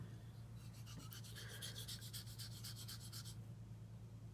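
A knife edge scraped in rapid back-and-forth rasping strokes across a wet DMT coarse diamond plate, a steady run of gritty strokes lasting a few seconds over a low constant background hum, with no talking.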